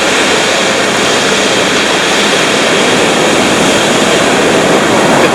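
Ocean surf on a beach along the Great Ocean Road at Lace Curtains Beach, heard as a loud, steady wash of broadband roar with no breaks or voices throughout.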